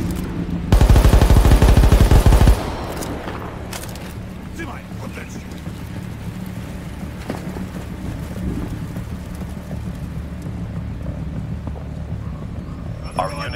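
A dense, loud burst of automatic gunfire in the World War 3 multiplayer game on the Warsaw map lasts about two seconds, then gives way to a low, steady battlefield ambience with faint distant pops.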